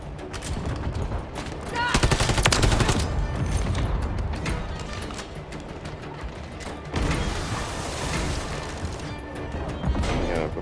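Heavy gunfire from Call of Duty Modern Warfare 3 video game, with bursts of automatic fire, sharp crashing impacts and layered battle noise running continuously, loudest around the second and seventh seconds, with game voice callouts mixed in.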